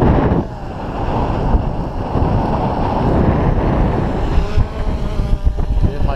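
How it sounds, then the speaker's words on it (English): Strong gusty wind roars across the microphone at an open model airfield, a loud continuous rumble with rising and falling gusts and no voices. "Very windy."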